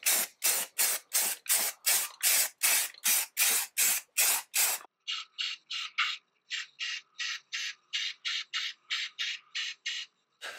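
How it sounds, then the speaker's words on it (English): A can of Rust-Oleum self-etching primer sprays onto a vehicle frame stiffener in rapid, loud hissing bursts, first a dozen long even blasts, then a run of shorter, thinner spurts. "I'm going to go ahead and spray it down with some good Rust-Oleum self-etching primer"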